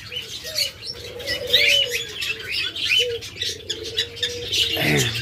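Silver doves calling in a bird seller's stock, several soft coos and chirps overlapping at close range, with faint flutters and an abrupt scuffling noise near the end.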